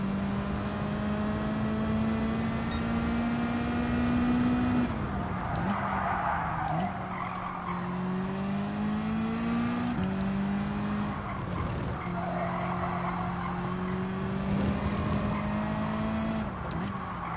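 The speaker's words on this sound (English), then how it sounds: "Rev it out a lot." A Gran Turismo 7 race car engine revs hard and climbs through the gears, with repeated rising pitch sweeps and shift drops, loud and steady throughout.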